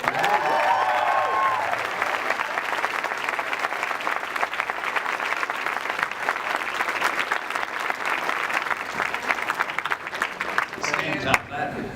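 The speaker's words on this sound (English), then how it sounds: "Round of applause." An audience at a Stan Lee Q&A at St. Louis Comic Con in 2013 breaks into steady, dense applause that lasts throughout. A few voices are heard briefly at the start, and it tapers off near the end.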